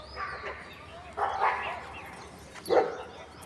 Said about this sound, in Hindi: काला कुत्ता आ गया ना, तो वो भौंक रहे हैं